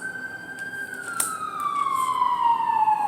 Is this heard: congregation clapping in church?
no